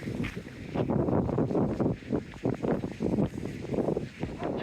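Gusty wind buffets the microphone outdoors on an early morning walk near a café, steady roaring rumble with irregular surges throughout.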